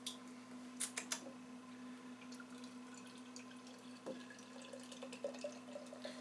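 Collingwood Freestyle Kolsch beer poured into a rinsed glass, heard as a faint, quiet liquid trickle with a few soft drips and clinks over a steady low background hum.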